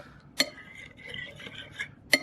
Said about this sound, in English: But let's get our handy dandy spoon. And we're just gonna stir it.